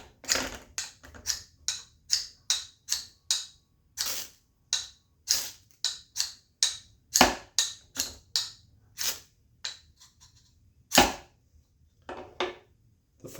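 A knife spine scraped repeatedly down a ferro fire rod, giving a long run of sharp, bright rasping strikes about every half second, close and fairly loud, with short pauses between bursts and a few stronger scrapes.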